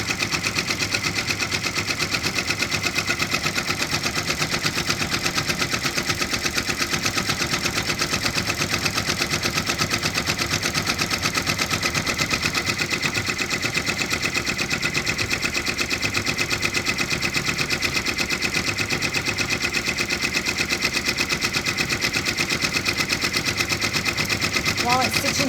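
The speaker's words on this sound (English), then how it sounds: "So now it's going to stitch out this next letter in the new color." Baby Lock Endurance II six-needle embroidery machine stitches out a letter, a fast, steady mechanical chatter of rapid needle strokes that runs continuously at an even level throughout.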